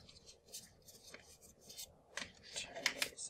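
Oversized tarot-style cards shuffled by hand in short bursts of papery rubbing and flicking, close and fairly quiet, with no talking over it.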